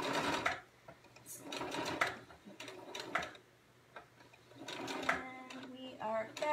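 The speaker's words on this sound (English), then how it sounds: "I'm going to back stitch and hope I did that right" A sewing machine stitches a French seam on a candy corn wristlet, giving bursts of fast mechanical whirring and ticking that stop and start. A person talks between and over the runs.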